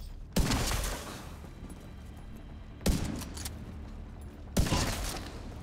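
Three loud, sharp sniper rifle shots in the video game Division 2, each a crisp crack followed by a long rolling echo, spaced roughly two seconds apart with no talking.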